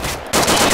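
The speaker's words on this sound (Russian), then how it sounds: "Блин, свои стреляют" Machine gun fire in the military video game ArmA 2 ACE: a dense, loud burst starts abruptly after a short muffled rumble and carries on to the end.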